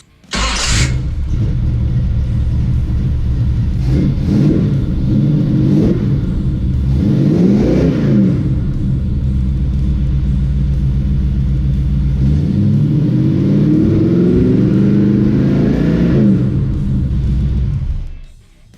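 A 1970 Dodge Challenger's carbureted engine idles loudly up close and is revved several times to around 4,000 rpm, a deep rumbling roar with timing set at 20 degrees, then cuts off at the end.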